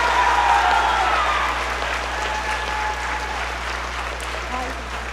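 A concert audience at a middle school spring band concert gives students receiving awards a sustained round of applause, broad and even, with a low steady hum underneath and faint voices in the crowd.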